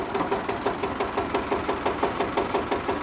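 A tractor engine runs steadily nearby at a show day for tractors, with a regular knocking diesel beat throughout and no talk.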